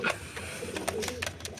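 Two male pigeons in a cage give soft, close cooing calls, a few short repeated coos over faint background noise.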